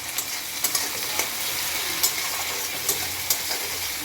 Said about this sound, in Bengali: এটাকে এখন একটুখানি ভাজা ভাজা করে নিয়ে তারপরে মাছটা দেব।